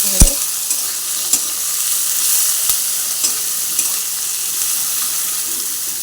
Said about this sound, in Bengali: হালকা হালকা করে ভেজে নিতে হবে করে হালকা ব্রাউন করে হবে